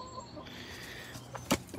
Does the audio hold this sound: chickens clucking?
yes